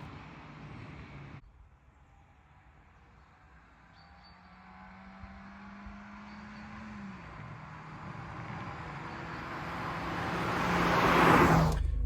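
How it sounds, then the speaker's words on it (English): Renault Clio 1.4 driving past at 60 mph on a road, swelling from faint to loud as it nears and rushing by with a roar of tyre and engine noise at the close, with no talk. "Now hear what the car sounds like getting 60 miles an hour, and don't worry, it'll go past the other way as well."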